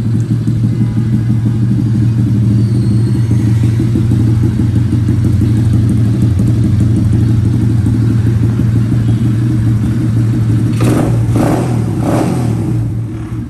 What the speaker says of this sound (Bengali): ইঞ্জিনের সাউন্ডটা একদম চমৎকার আছে এখনো।